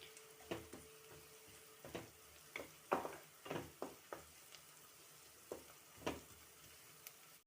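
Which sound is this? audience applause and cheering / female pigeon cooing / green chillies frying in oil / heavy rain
green chillies frying in oil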